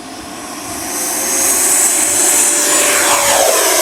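An FMS Avanti S 90mm RC jet taking off with flaps set, a loud roaring jet whine that swells over the first seconds and then holds steady and close, no voices.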